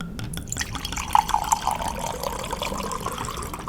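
Wine poured from a bottle into a glass gives a short, close gurgling trickle in a room, then fades into a soft murmur of background noise.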